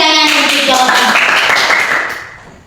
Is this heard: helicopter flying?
no